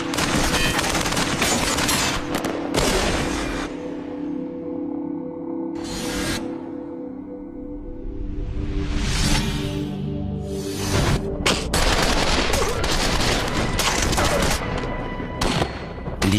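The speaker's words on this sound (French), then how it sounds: "et j'ai tiré sur le suspect." Heavy gunfire from the North Hollywood bank robbery shootout in Los Angeles, fired at an armored robbery suspect's unprotected legs: loud, sustained volleys of shots with dense overlapping bursts and booming echoes throughout.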